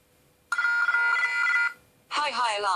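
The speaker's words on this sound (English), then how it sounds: "as it passes through the thresholds plus the deadband, we will get the various alarms" A SCADA unit's alarm goes off as an analogue input crosses its threshold: a steady electronic tone holds for about a second, then after a short gap a warbling alarm tone begins, loud and close.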